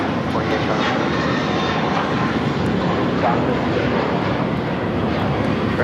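American Airlines A321 in America West retro livery taking off from LAX for Puerto Vallarta, a steady broadband jet roar filling the whole stretch, with a dog barking faintly and voices in the background.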